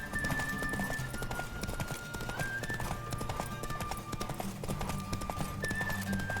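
Horse hooves clip-clop at a steady gallop in The Witcher 3, repeating evenly throughout under a continuous bed of game music, with a brief whinny-like tone.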